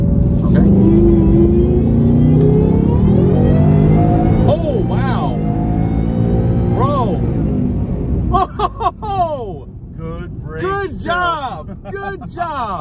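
Whipple supercharged 3.0 Mustang accelerating hard, a loud sustained engine roar that rises and shifts through the run while people talk and react over it inside the car.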